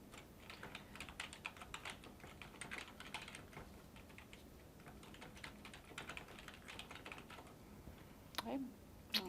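Rapid, quiet clicking of computer keyboard keys in steady bursts, close by, with a slightly heavier keystroke near the end.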